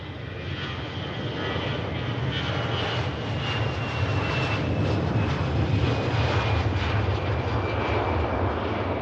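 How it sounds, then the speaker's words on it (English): An EasyJet Airbus A320 departing Manchester Airport gives a steady, loud jet engine roar with a faint high whine, holding evenly throughout with no voices. "EasyJet A320 out to Malaga."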